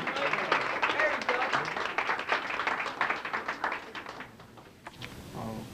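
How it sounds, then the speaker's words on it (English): At a Boston youth recognition celebration, the audience claps as a young speaker comes to the stage; the crisp clapping thins and fades near the end, then a voice begins. "Let's give him a round of applause as he comes to share."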